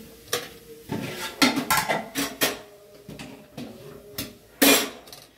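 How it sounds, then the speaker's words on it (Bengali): Boiling rice is stirred in a pot, giving a series of irregular scraping knocks of utensil against metal, close and fairly loud, with brief pauses between. "ভাতটা উদলে গেছে তো তা নাড়া দিলাম"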